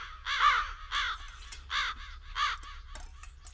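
Crows caw repeatedly around a house, four or five harsh calls in an uneven rhythm, fairly clear and close, with no voices over them.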